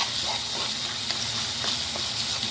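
Ginger garlic paste frying in a hot pan gives a dense, constant sizzle and hiss close up, with faint scrapes of stirring and no talk.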